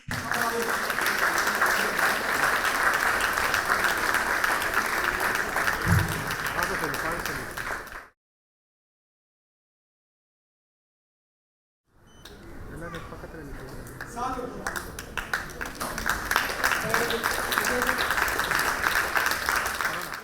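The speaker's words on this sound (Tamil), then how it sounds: "கைத்தடுங்க எல்லாரும் ப்ளீஸ்" An audience at a school achievers' awards ceremony claps in sustained, dense applause that cuts off into a few seconds of silence, then builds back up into loud clapping again.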